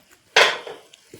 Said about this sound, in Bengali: তো এখন আমি কড়াইটা খুলবো